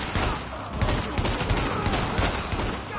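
Dense, sustained gunfire from The Division video game, a loud fusillade of overlapping shots with no pauses and no talking.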